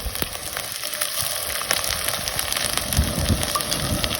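Tomato paste sizzling as it hits onions frying in a pan during village-style cooking of a desi corn curry, a steady close hiss and crackle with a few louder spits near the end, no talking.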